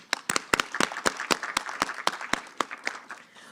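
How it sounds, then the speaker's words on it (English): A small number of people clap at a university Black History Month convocation, with sparse, distinct claps spaced irregularly across a few seconds rather than a full ovation. "Let's give a round of applause for the artistic selections performed at today's Convocation"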